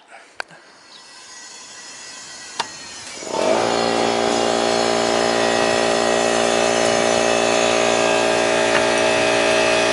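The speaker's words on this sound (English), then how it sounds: "Let the compressor finish and then turn it off." An air compressor filling a hollow air spring clicks a few times, then kicks on near 3 seconds and runs loud and steady with a droning motor hum until the end, with no talking.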